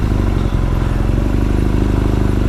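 A BMW R nineT Scrambler motorcycle fitted with a Povik exhaust idles close by, its boxer engine giving a steady, loud, lumpy pulsing rumble with no voices.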